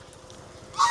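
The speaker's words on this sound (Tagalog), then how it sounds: "Ito yung gangsa pato." A goose honks loudly near the end on a rural farm, a short burst of nasal calls after a quiet, murmuring stretch.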